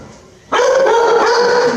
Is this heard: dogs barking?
yes